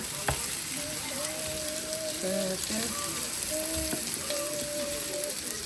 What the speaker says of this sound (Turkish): köftelerimiz, soğanlarımız burada pişiyor